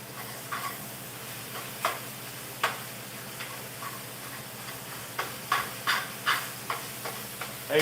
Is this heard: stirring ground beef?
yes